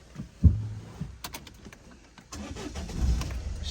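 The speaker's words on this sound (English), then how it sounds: "Starts the car straight away." A Citroen Berlingo engine cranks with a newly cut key and fires almost at once, a thump of ignition followed by a steady idle rumble, close and moderately loud, with no talk.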